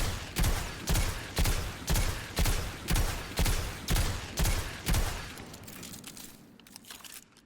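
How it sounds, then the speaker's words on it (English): Video game gunfire aimed at a wall, about eight evenly spaced loud shots in a rapid rhythmic burst, then stopping with a fading tail and faint clicks. "So I stand here and shoot the wall."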